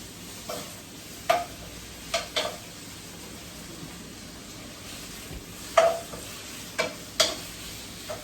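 Onions and garlic softening in a pan over a low flame, a faint steady sizzle with intermittent clinks and scrapes of a utensil stirring, several distinct taps spread across the quiet frying.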